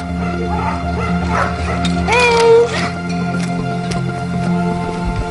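Dogs at a remote lakeside lodge in Canada yip and whine in a short burst, one rising whimpering call standing out, over a constant background hum with a voice speaking faintly.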